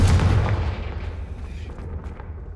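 A Confringo spell blast in Hogwarts Legacy bursts as one heavy booming explosion, loud and close, then its low rumble fades away over a couple of seconds with no speech.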